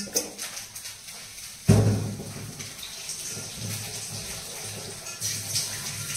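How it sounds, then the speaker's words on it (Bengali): Water runs from a kitchen tap into a cooking pot set to soak, a steady rushing wash with a sharp splashing onset near the start, continuing at a moderate level with faint clatter. "হাঁড়িটা ভিজিয়ে রাখলাম, মেজে দেবো"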